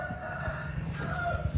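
A Bangkok fighting rooster, a crossbred champion-line bird, crows in a short, moderately loud call. Steady farmyard noise runs underneath.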